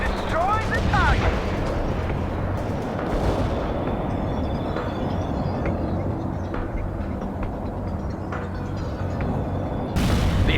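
Incoming artillery fire and explosions in World in Conflict form a steady, heavy rumble of battle, with distant booms rolling under the din and a sharper blast near the end.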